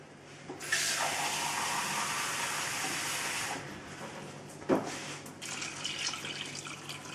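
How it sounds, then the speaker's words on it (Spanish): Water poured from a tap or jug into a pot of washed lentils with chorizo and potato, a steady splashing stream for a few seconds, then softer trickling and a brief clunk. "Le vamos a echar agua hasta cubrirla."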